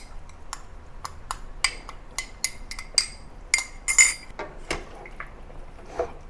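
Dried goji berries drop into a pot of watercress and pork rib soup, making a series of light clinks and taps against the pot and utensils, close and spaced irregularly, with no talking.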